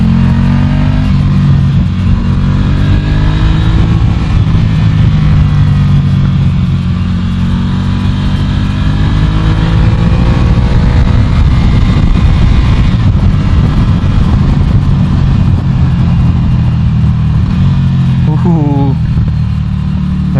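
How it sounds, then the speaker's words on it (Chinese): A Ducati Scrambler Café Racer motorcycle engine runs loud and close, its pitch rising and falling as the throttle is worked through a long sustained stretch, and a voice speaks over it at times. "当然还有引擎的声浪嘛"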